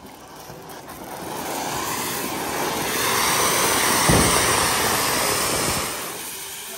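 A new car on the move, giving a steady, broadband road and engine rumble that swells slightly toward the middle and eases near the end, with no talking.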